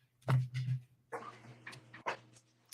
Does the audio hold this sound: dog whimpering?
yes